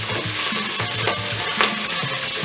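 Spring onions frying in melted coconut oil in a pot give a steady, close sizzle, with faint scraping and stirring knocks repeating through it and no talking.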